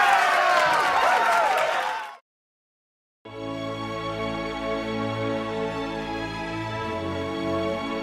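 A flock of cartoon sheep applauds with a brief burst of clapping and crowd noise for about two seconds. It cuts to silence, then gentle music with sustained tones begins.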